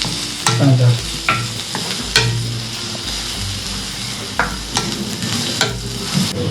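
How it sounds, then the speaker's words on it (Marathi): Onion fries in hot oil in a pan, giving a steady sizzle broken by repeated scraping stirs and sharp clinks of a utensil against the pan, close and fairly loud. "तेल गरम झालं आहे ना तर कांदा टाकूया."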